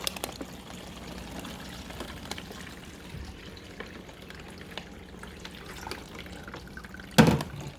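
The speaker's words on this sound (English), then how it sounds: "got our water loaded up. We're just gonna dump it in." Water poured into a Beermkr home brewing machine makes a soft, steady trickling wash at moderate distance, ending with a brief louder splash and clunk.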